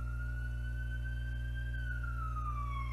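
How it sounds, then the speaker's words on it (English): An ambulance siren passes outside, a single drawn-out wailing tone that rises slightly and then slides down as it moves away, faint and distant over a steady low background hum. "No, that was an ambulance."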